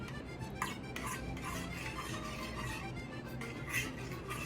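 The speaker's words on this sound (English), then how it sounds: "You gotta stir it up so that way it's not too chunky, and that it gets, breaks up the tomato soup correctly." A spoon stirs tomato soup in a pot, steady scraping and clinking of metal against the pan with faint bubbling, close and continuous with no voices.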